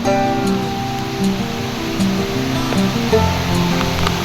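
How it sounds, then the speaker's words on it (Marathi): A waterfall on the Bhimashankar trek route via Ranshil Ghat roars in a dense, continuous rush of falling water, loud and close, with no voices. "फायनली लागलेला आहे वॉटरफॉल"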